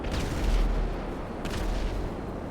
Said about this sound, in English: I get guns on target and send a rocket.